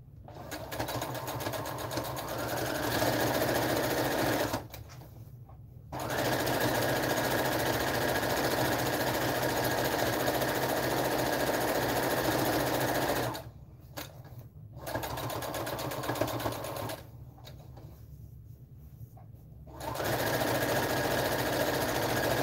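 A sewing machine stitches pajama pants, leaving a one-inch opening for inserting, its steady motorized whirr running in long bursts with short pauses between seams.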